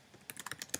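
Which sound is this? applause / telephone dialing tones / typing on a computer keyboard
typing on a computer keyboard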